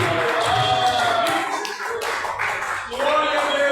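Church congregation clapping during a worship service, a steady burst of hand claps layered with voices and loud music throughout.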